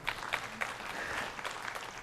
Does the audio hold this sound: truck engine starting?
no